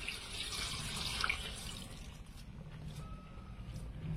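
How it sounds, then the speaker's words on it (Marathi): Water runs steadily from a tap into a cooker for boiling crabs, a soft continuous pouring hiss close by, with no talking. "तर याच्यात आता उकडण्याकरता पाणी टाकून घेत आहे."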